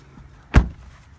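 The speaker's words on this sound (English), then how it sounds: "Close the door." A single solid thud as the driver's door of a 2019 Acura RDX Advance is shut from outside, one short, close impact with a brief low-end boom, then quiet.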